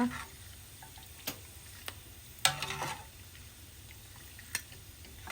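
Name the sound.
pork rinds deep-frying in oil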